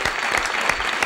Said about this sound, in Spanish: yo quiero pedir un aplauso bien fuerte para el bombón encendido